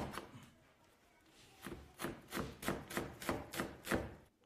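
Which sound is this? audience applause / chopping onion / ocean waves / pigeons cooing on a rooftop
chopping onion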